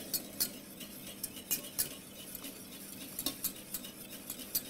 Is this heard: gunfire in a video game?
no